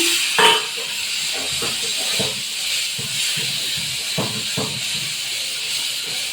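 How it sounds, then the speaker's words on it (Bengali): Onions frying in a pan with a little water added give a steady broad hiss throughout, with soft scattered clicks and faint background voices underneath. "অল্প করে একটু জল দেবো পেঁয়াজটা গলিয়ে নেওয়ার জন্য।"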